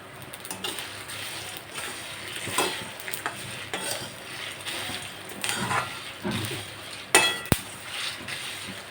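Garlic cloves fry in a pan for a neem flower spice powder, with a moderate sizzle broken by stirring scrapes, utensil clinks and one sharp clack near the end.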